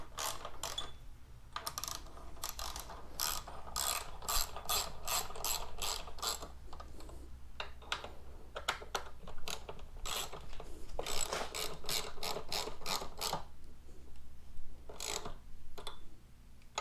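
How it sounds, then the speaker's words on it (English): Ratchet tightening the bolts of grab handles on a 2022 Honda Grom rattles in rapid bursts of pawl clicks, close and crisp, with short breaks between strokes and no talking. "And just tighten them down."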